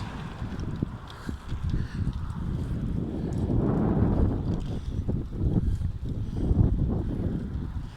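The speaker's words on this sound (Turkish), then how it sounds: "Hep rüzgar hep rüzgar" Gusty seaside wind buffets the microphone in rumbling bursts, rising and falling with low roaring noise.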